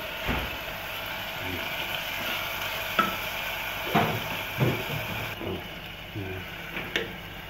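A spoon stirring Indian vegetables with sausage and masala in a sizzling pan, steady frying hiss under irregular scraping and knocking strokes against the pan, close and moderately loud, without talk.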